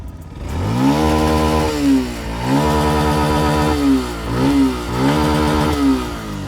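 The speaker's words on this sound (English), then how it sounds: "The FZX also gets a side hung single barrel exhaust" A Yamaha FZ-X motorcycle with a side-hung single-barrel exhaust idles loudly nearby, then revs up repeatedly in rising and falling bursts, with a deep, throaty, bassy exhaust note.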